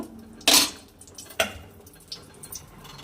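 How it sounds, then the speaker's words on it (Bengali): Onions tipped into a pan for a meat curry land with a sharp clattering sizzle burst, followed by a second clatter a moment later and a few softer utensil clinks, close up with no talking. "এবার পেঁয়াজগুলো দেবো মাংসের জন্য"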